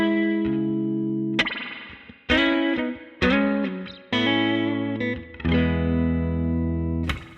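Distorted electric guitar playing two short riffs, each opening on two pitches a sixth apart, with sustained chords between sharp attacks; loud and close, alone without talk.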